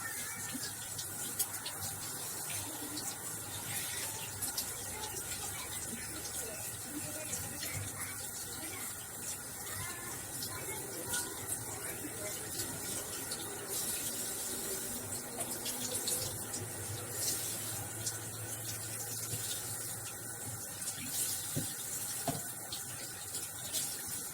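Tap water runs steadily into a sink while ingredients for Hong Kong soup are rinsed, a continuous close splashing wash with no speech.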